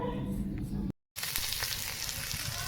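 Potatoes sizzle and crackle steadily in hot oil in a pan, with one short break in the sound.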